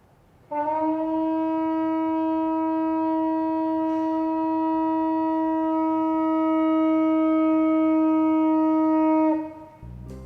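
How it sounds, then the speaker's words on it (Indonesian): A sangkakala horn (shofar) is blown in one long, steady, loud note rich in bright harmonics, held for about nine seconds before cutting off abruptly. "Jadi ini bunyi sangkakala."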